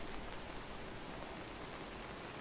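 Steady rain hisses without pause across a dark outdoor map in the tactical shooter game Ready or Not, forming an even wash of noise with no voices.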